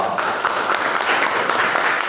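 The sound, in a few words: applause from a classroom audience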